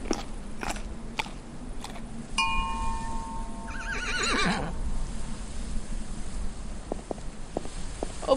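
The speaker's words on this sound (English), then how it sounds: "Feed the horse." A horse in the video game Burnhouse Lane whinnies and chews while being fed, a short neigh followed by crunchy biting sounds, with no talk.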